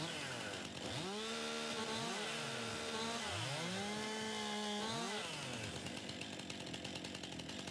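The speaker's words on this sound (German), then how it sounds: "mit der Kettensäge kann man halt nicht schnell laufen" A chainsaw in the video game Farming Simulator 19 revs up and down repeatedly, its engine whine rising and falling in several sweeping bursts, loud and close with no talking over it.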